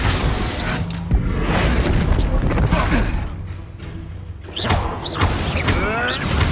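Bombarda blasting spell going off in the Hogwarts Legacy video game, a loud booming burst around the middle with crashing debris, set among ongoing game effects and bursts of voices.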